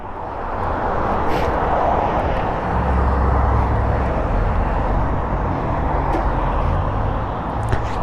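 A 2018 Triumph Bobber Black motorcycle rides along a street with a steady, broad engine and wind roar that holds a fairly constant level throughout.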